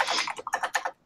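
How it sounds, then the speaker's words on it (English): Rapid clattering keystrokes on an old 1980s computer keyboard, a dense burst of clicks followed by several separate taps, close and fairly loud, with no talking. "Who's typing on an old '80s keyboard?"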